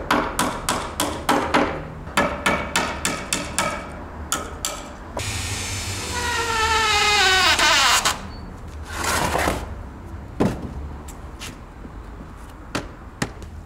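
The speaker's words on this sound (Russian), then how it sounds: "Сейчас гвозди выбью." Hammer knocking nails out of wood in a home repair, with rapid rhythmic clusters of sharp close blows, a pause filled by a rising screech of a nail being pulled, then scattered single knocks.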